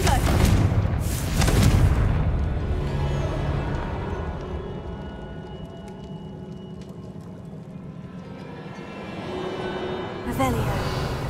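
In Hogwarts Legacy, a Confringo blasting spell goes off as a heavy booming explosion at the start, then a rumbling decay under game ambience and a voice, with another sharp burst near the end.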